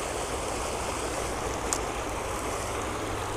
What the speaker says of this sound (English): I think we're going to get sucked in by the fast water.